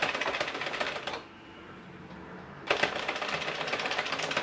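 An Addi Express knitting machine knitting a soft-yarn headband, giving a dense rapid clicking rattle as the crank turns, pausing briefly for about a second and a half before the clatter resumes, close.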